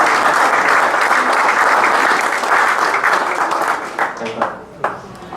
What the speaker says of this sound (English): I give it to Mike for all the applause